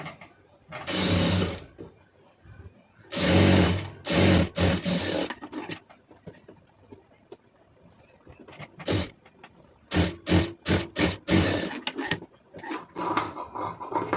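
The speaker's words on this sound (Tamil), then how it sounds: "இது அப்படியே அதை கீழே மடிச்சிருங்க. இதில் ஒரு படிமான தையல் போட்டுருங்க." Sewing machine stitching a folded-under blouse hem, running in several bursts of rapid whirring stitching separated by pauses, close and loud with no talk.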